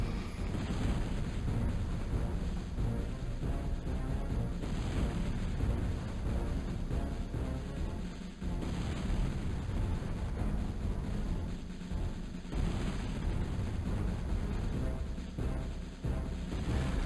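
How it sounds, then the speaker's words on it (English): Catapult strikes pounding a castle's outer wall during a siege in the strategy game Lords of the Realm II, a loud, continuous rumbling roar of impacts and crumbling debris that swells and dips without a break. "it's going to take quite a few hits before that outside wall has been completely destroyed"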